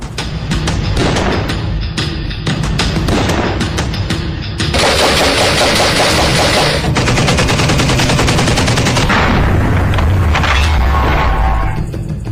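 An Israeli assault rifle fires long, rapid automatic bursts, loud and close, the crackling volleys running continuously and densely with hardly a pause.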